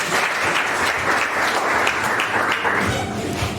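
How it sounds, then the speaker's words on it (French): An audience at a mock trial held by law students at UMD in Mwene Ditu applauds steadily and fairly loudly in dense, continuous clapping. "Veuillez aussi applaudir pour lui."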